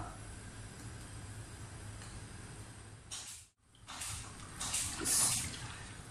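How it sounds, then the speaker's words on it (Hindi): Water pours into a cooking pot holding beef and lentils, a steady faint splashing stream that briefly cuts out and then resumes, with no talk over it. "पानी दोस्तों मैंने 1 लीटर डाला है।"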